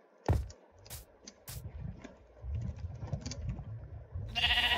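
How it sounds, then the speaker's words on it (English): Sheep in the Minecraft video game bleat several times in short, nasal calls amid light in-game clatter and footsteps, with no voices over them. "A sheep!"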